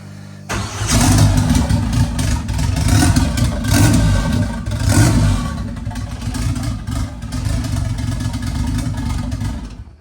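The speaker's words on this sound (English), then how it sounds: "I did not expect it to fire up on the literal first move of the starter" A front-wheel-drive Beetle's engine cranks briefly, catches and roars to life, then settles into a loud, steady running idle with slight revving.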